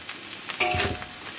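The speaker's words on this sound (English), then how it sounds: "Stir fry until you know that the onions are almost half cooked." Tuna fried rice with onions, red chili, oyster sauce and light soy sauce stir-fried in a pan, a steady close sizzle with a brief louder burst of scraping and tossing midway.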